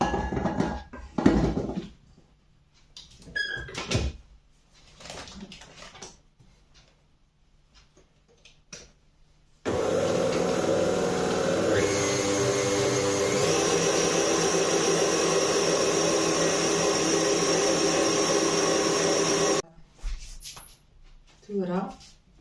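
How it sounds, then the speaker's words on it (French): An electric whisk whips ingredients for a cherry and kiwi fruit charlotte, running as a loud steady whir for about ten seconds. It shifts pitch midway, then stops, with kitchen clatter and a voice before and after. "On va les faire un peu fouetter un peu."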